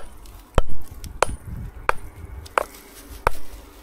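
Knuckles knocking on a surface that sounds hollow underneath, five evenly spaced sharp knocks about two-thirds of a second apart, close and clear with no speech.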